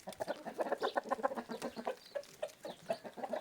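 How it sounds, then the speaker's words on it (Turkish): A flock of hens with roosters clucks steadily and busily nearby, many soft repeated calls overlapping with no talking. "Bu da diğer horozumuz"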